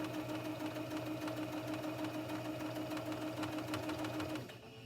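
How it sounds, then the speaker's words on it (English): Sewing machine stitching steadily in the ditch along a seam while hemming blue jeans, a close continuous mechanical hum with a rapid needle rhythm that slows and drops away at the end. "This is called stitching in the ditch"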